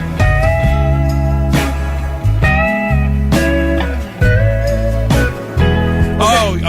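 Guitar playing a song, a loud, full band-style recording with sustained chords and melodic lines, steady and continuous throughout with no talking.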